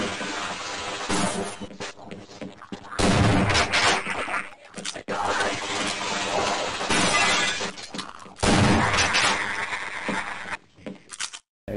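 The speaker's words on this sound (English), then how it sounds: "there's always gunshots going off" Half-Life gunfire and breaking glass come in several loud, harsh bursts separated by brief quieter gaps, sharp crashing impacts and shattering debris in a fast game-combat sequence.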